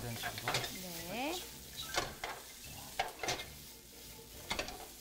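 Raw meat is stir-fried in a large pot for a Japanese home-style dish. Sizzling sits under repeated scrapes and clinks of a utensil against the pot, and a voice is briefly heard.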